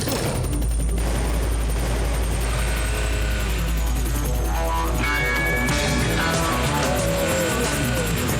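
An animated cartoon helicopter flies overhead with a steady, droning rotor hum that fills the scene, under busy background effects.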